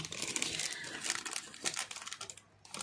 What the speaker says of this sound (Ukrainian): Цей папір йде це плівка для холодного ламінування